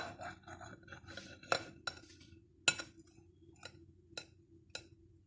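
A crusty brioche filled with pastry cream is cut with a knife, giving soft crackly crunches and several sharp, isolated clinks heard up close over quiet room noise.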